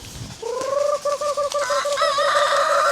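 Native hens and a rooster call up close, a steady run of clucking and crowing notes rising into a sustained cry, loud and alone.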